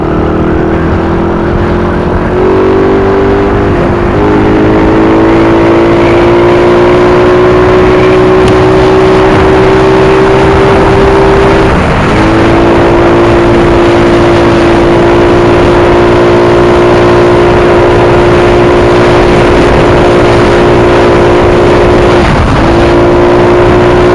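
A tuned motorcycle, freshly back from carburetor work, drones loud and steady on a bypass road test ride, its engine note climbing slowly under hard throttle with small shifts and wind rush, no talking.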